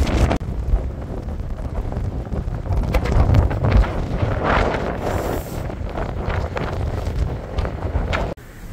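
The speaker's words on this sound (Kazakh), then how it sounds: "Желдің қаттылығы есігіміздің зорға жабасын." Strong wind roars and buffets a microphone outdoors on the Temirtau–Astana route, a loud, continuous gusting rumble that fills the clip before cutting off abruptly near the end.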